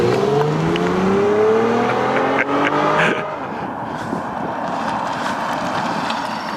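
A car, a 2014 Mazda6 or Infiniti M35 Hybrid with traction control off, revs hard in a failed burnout attempt; engine tones climb loudly for three seconds, then drop into a rough, noisy idle and tire rumble.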